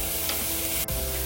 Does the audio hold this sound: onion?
yes